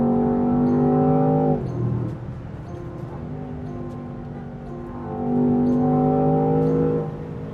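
A Land Rover Defender Octa engine revs hard and close, its rising harmonics climbing toward redline, then dropping off. It idles rough for a few seconds before a second long surge of revving climbs again and falls.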